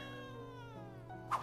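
A cat meows and yowls in the Whack the Serial Killer video game, a loud sustained cry over steady game background sound, with a short sharp burst near the end.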